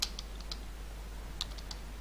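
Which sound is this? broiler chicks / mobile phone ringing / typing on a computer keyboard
typing on a computer keyboard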